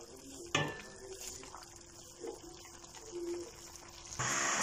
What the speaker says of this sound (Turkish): Biberimi tekrardan karıştırıp ocaktan alıyorum